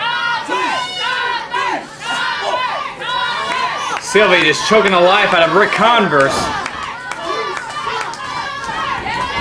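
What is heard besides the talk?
wrestling crowd cheering in support of Ric Converse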